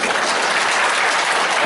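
An audience at a regional jobs forum in a chamber of commerce hall greets the arriving city mayor with dense, loud, continuous applause from many hands.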